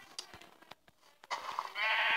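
A sheep in a blocky survival video game bleats a few times in short synthetic calls, close and clear, followed by a louder burst of game sound at the end.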